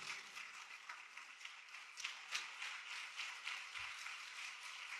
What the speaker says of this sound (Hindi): आए जोरदार तालियां बजाएं पापा इसके लिए